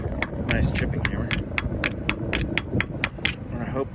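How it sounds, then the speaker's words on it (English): A chipping hammer strikes a weld in rapid repeated metallic taps, about a dozen sharp hits in a steady fast rhythm, close and loud over a dense mechanical rumble of shop noise. "that's my nice chipping hammer"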